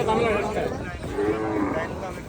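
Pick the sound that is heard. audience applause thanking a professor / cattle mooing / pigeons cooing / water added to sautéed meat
cattle mooing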